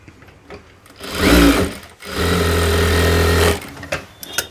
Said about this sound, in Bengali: এই যে আমি চাপ সেলাই দিয়ে নিলাম।